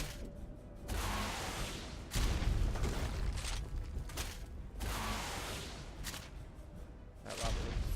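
Rockets from primitive gear are fired at a lava golem in a video game, making a series of heavy, booming bursts that come in clusters with short gaps between them, loud and close.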